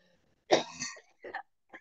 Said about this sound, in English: Okay, cough attack over.